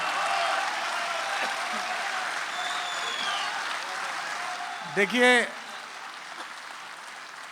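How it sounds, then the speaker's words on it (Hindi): An audience at a mushaira poetry gathering in Dubai applauds a poet with a dense, steady wash of clapping that gradually eases off, before someone briefly speaks near the end. "एक बार तालियां बजा दीजिए उनके लिए जोरदार।"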